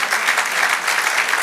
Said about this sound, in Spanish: Dale aplauso al Señor.